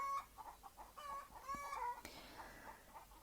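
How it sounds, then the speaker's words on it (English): Backyard chickens cluck and squawk in a busy, agitated chorus of overlapping short calls with rising tonal cries, close and fairly loud throughout, with no talking. "our chickens are actually having a very heated, animated discussion"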